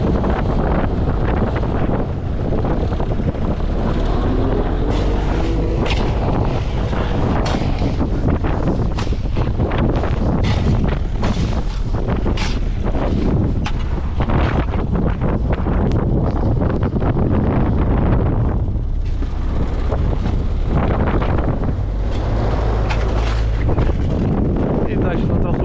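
Howling blizzard wind over a frozen lake during winter ice fishing for pike, a loud continuous roar buffeting the microphone throughout, with gusts rising and falling.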